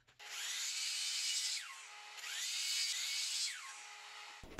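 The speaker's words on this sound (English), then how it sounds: "I then remove the handles and cut these angles at the miter saw." A miter saw cuts angles on oak handles for a wooden wheelbarrow planter, two whining cuts of about a second and a half each, with a pause between them and a thump as the blade stops.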